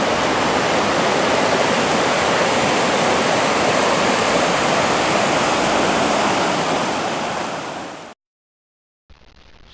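A river rushes loudly in Yosemite, a dense steady roar of close water that fills the clip, then cuts off abruptly near the end before resuming briefly.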